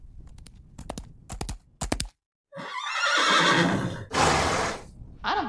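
A horse neighs and whinnies loudly in a radio drama scene, preceded by rhythmic clip-clop hoofbeats, then two long, shrill whinnies rising close and clear with a brief silence between.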